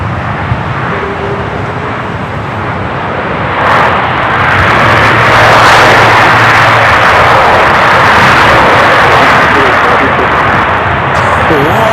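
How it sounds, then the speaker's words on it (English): A British Airways Airbus A380 jet taxis past at Los Angeles International Airport, a loud, broad engine roar that swells and holds steady, with faint voices beneath it. "Speedbird A380 Super heading to the gates of Tom Bradley"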